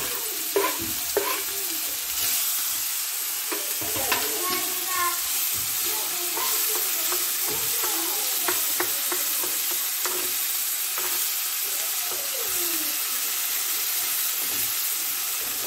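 Onions frying in a pan, a continuous loud sizzle with intermittent scraping and stirring of the spatula throughout, close up and without talk.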